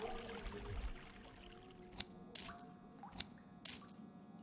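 A coin is picked up in the hidden-object game Sacra Terra: Angelic Night, giving two bright metallic jingling chimes over a quiet ambient music bed, each a short shimmering clink that fades quickly.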